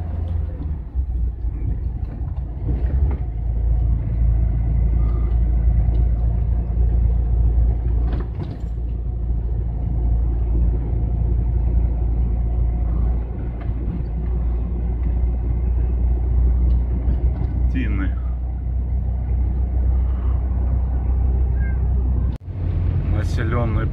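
Steady low road rumble and engine drone from a GAZelle van driving along a rural road on a cross-country trip, continuous and moderately loud from inside the cabin, with occasional faint bumps.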